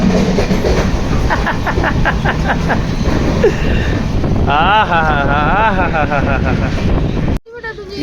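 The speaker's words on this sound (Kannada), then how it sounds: "ಫೈನಲಿ ನಮ್ಮ ಟ್ರೈನ್ ಬಂದಿದೆ ಮುರುಡೇಶ್ವರಕ್ಕೆ" A train rumbles loudly arriving at Murudeshwar station with steady clatter and wind buffeting, a horn-like tone rising briefly, while people talk over the noise.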